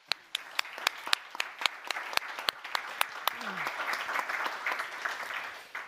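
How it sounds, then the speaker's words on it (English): Audience applause for startup founders at an award ceremony and closing event, sharp claps rising over a short stretch and settling into steady clapping, with a brief voice partway through. "Give them a hand of applause,"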